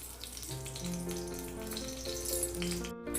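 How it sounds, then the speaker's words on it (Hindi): Poha roasting with a spoonful of ghee in a pan for a Ganesh Chaturthi bhog, giving a steady close sizzle and frying crackle with faint scraping, no talk. "तो अभी हम पोहा को भूनेंगे। तो यहाँ पर मैं 1 चम्मच घी दे रही हूँ"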